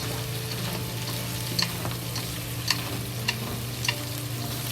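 Green pepper, carrots and onion stir-fried in a wok, sizzling loudly and steadily with a low oil hiss and a few sharp scrapes and clatters as the vegetables are tossed.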